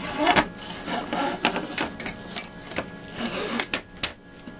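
A sewing machine runs a seam across a crazy quilt block, its rapid stitching bursts coming in short uneven runs with brief pauses, close and moderately loud.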